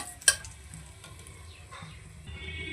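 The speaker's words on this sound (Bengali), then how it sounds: "ওই কড়াইতে আরও বেশ খানিকটা তেল দিয়ে তাতে দিয়ে দিচ্ছি ফোড়ন তেজপাতা শুকনো তেজপাতা আর গোটা গরম মশলা" Whole garam masala spices, a dried red chilli and dried bay leaves sizzle steadily in hot oil in a wok, with a sharp metallic clink near the start and a soft continuous crackle throughout.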